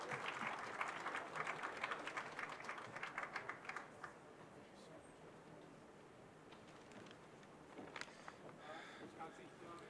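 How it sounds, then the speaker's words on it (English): Applause at the Connected Africa Summit 2024 in Nairobi for the Belgian ambassador to Kenya, fairly faint clapping that fades after a few seconds and then swells briefly again, with light voices in the room. "Let's give him a warm round of applause."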